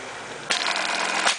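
A Juki MB-372 button sewing machine stitches a four-hole button, starting abruptly into a loud, rapid mechanical clatter that runs steadily for about a second.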